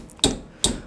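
A bent drywall screw snaps, giving two sharp, close metallic clicks about half a second apart, heard alone without any talk.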